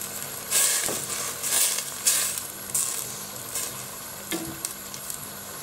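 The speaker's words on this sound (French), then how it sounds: "On va mettre un petit peu de vin blanc." White wine hits a hot pan of shrimp for a wild garlic shrimp blanquette, throwing up a few loud hissing sizzle bursts that fade into a steady quieter frying crackle, with no talking.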